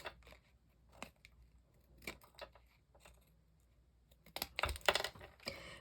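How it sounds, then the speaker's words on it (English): Quiet, scattered snips and clicks of scissors cutting off ribbon ends, sparse at first, then a quicker cluster of louder cuts and rustling near the end. "I'm going to get a pair of scissors and I'm going to just snip all of these off"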